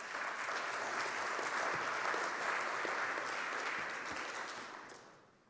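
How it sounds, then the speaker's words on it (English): Audience applause for a speaker at a conference session, a continuous wash of many hands clapping. It sounds fairly quiet and distant, stays even for several seconds, then tapers off at the end. "Big round of applause for Elizabeth."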